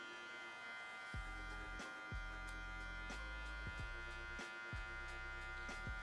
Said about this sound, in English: you need to let the clipper do the work